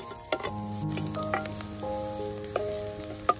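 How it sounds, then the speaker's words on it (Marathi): Finely chopped onion fries in hot oil with a soft continuous sizzle for a Goan sardine curry, close by, with a few faint clicks and tonal background hums and no speech. "तेल बरे तापल्या उपरांत हातून घालून घेवया बारीक चिरलेलो कांदो। कांदो आमकां बरो ब्रावन जायसर भाजून घेवंक जाय।"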